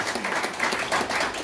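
An audience at a community gathering claps together in a dense, continuous burst of applause that fills the short moment without pause.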